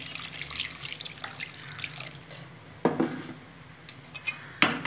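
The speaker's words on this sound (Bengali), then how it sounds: "গ্রেভির জন্য জল দিয়ে দেব।" Water poured into a pan of egg curry gravy with eggs and spices, mostly a soft splashing wash with a couple of sharp metallic clinks of the pan and utensils near the end, no talking.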